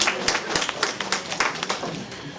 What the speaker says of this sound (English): I think you should give yourselves a round of applause for coming out on a morning such as this.